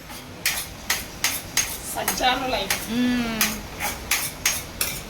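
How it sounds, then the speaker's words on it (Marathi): Pots and pans clattering while cooking at home, a series of sharp metallic knocks and clanks at a roughly regular pace, close and loud, with a brief spoken phrase in the middle. "जेवण करताना एवढा भांड्यांचा आवाज करायचा नसतो."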